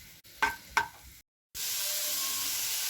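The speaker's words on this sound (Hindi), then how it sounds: "इसमें हम प्याज डाल रहे हैं। तो हल्का सा फ्राई करना है" Onions sizzling in a spoonful of oil in a frying pan, softening over heat: a couple of brief stirring clatters, a short silence, then a steady, bright, close frying hiss.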